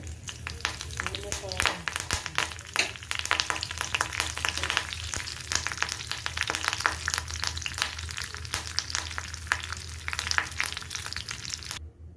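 Spices and curry leaves crackle and sizzle in about two spoons of hot oil, tempering for a snake gourd curd chutney; a dense, steady frying hiss with sharp pops runs close and loud throughout, stopping abruptly near the end.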